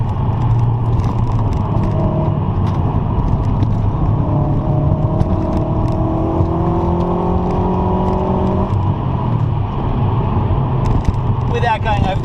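A 2006 Subaru WRX Hawkeye with stiff STI suspension is driven hard through corners, its engine droning and rising and falling in pitch steadily under a voice talking throughout.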